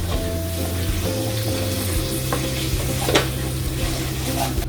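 Mint and coriander stirred into Melapalayam-style mutton biryani in a pot: a continuous loud sizzle with ladle scrapes and the odd metallic knock, heard close and without any talk.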